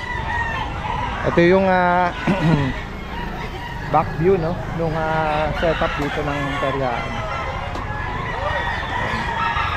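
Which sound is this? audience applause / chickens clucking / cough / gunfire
chickens clucking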